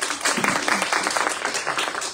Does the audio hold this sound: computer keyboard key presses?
no